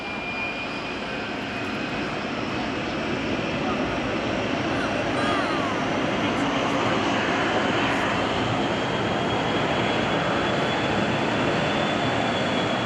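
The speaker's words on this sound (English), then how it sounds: "From your right now comes our 135 tanker." A Boeing KC-135R Stratotanker jet roars past at a 2011 airshow in Portsmouth, a loud sustained engine rumble and whine that swells and holds throughout, with a faint announcer's voice under it.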